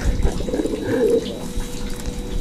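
Caged doves or pigeons from a bird market coo softly, a low murmuring call rising and fading over faint background noise, with no talk.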